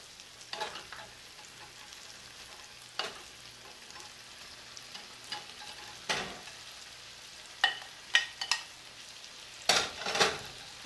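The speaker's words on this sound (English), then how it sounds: "And I'm going to go ahead and spoon in my potatoes. That way they can brown up and finish cooking in the skillet." Potatoes browning in a skillet, a quiet low sizzle broken by scattered clinks and scrapes of a spoon against the pan, with louder bursts of spatter toward the end.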